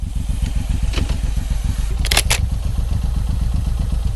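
A Suzuki M109R motorcycle engine thrums steadily while riding, a dense low rhythmic pulsing that runs the whole time with wind buffeting the camera and a couple of brief clattering rattles.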